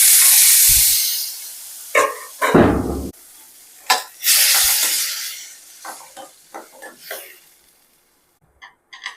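Two tomato pieces hit hot oil for a tangy tamarind-leaf chutney, giving loud close sizzling bursts mixed with stirring scrapes that come in uneven spurts and fade toward the end.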